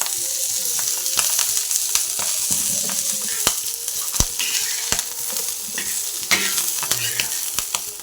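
Oil sizzling and frying in a pan while sweet corn masala is stirred, a continuous hiss broken by frequent sharp clicks and scrapes of a spatula against the pan.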